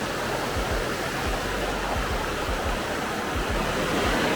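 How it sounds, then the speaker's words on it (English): A waterfall near the Melmont ghost town hiking trail in Carbonado, Washington roars as a loud, continuous, broadband rush of falling water with no breaks. "Look at that waterfall though."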